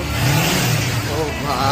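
A Kawasaki Ninja 400 motorcycle engine revs loudly and steadily up close at a riders' meet-up, a rough sustained drone that rises slightly, with voices faintly mixed in.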